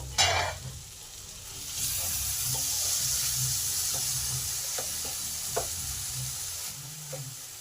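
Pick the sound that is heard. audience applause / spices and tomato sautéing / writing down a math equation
spices and tomato sautéing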